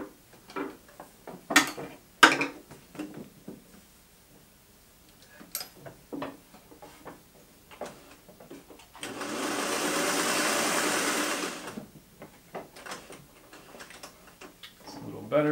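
A salvaged sewing machine runs in one steady, close whirring burst of a few seconds, set between scattered clicks and ticks of handling and adjustment while a person talks nearby.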